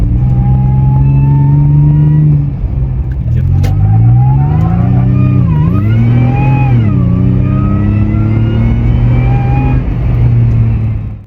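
A supercharged Toyota FJ Cruiser engine revs loud and close, rising and falling through several sweeps with a belt-driven supercharger whine riding above the engine note.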